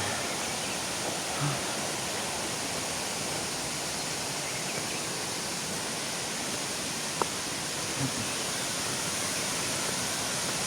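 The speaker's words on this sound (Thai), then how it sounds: "นี่นะครับทุกคนน้ำตกแม่ปาน" Mae Pan waterfall, a tall two-tiered cascade, roaring as a dense, unbroken broadband rush that stays even throughout, with a couple of faint small knocks.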